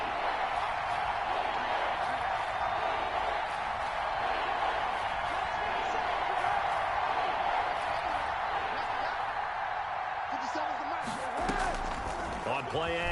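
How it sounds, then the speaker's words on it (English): A stadium crowd roars in a PS4 football video game ahead of a big third down, a dense steady wall of cheering noise that persists throughout, with a few sharp knocks near the end. "the crowd getting into it as we come up on a big 3rd down"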